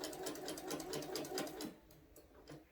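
A sewing machine stitches a quilted placemat in a fast, rhythmic run of needle strokes, close and clear, then stops and falls quiet with a few faint handling sounds at the end.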